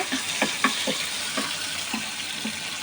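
Ingredients fry in a pan for chira pulao, a flattened-rice pilaf, giving a soft, low sizzle with a few light clinks and stirring touches scattered through, fairly quiet and close with no talk.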